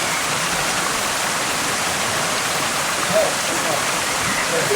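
Steady rush of splashing water from fountains in a central garden in Rome, a constant broadband wash with no breaks, fairly close and loud, with faint talk barely rising above it.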